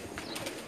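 Pigeons coo softly in a rooftop loft, a faint, brief burst of low murmuring calls with no voices.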